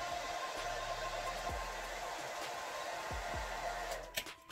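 A hot air blower gives a steady, even roar as it heats a 3D printed plastic mask. The rushing hiss holds constant, and a few faint knocks and handling sounds come near the end.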